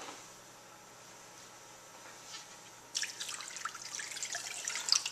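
After a quiet hiss, water starts pouring into a cooking pot with a splashing, bubbling trickle that grows slightly louder, close and moderate in volume.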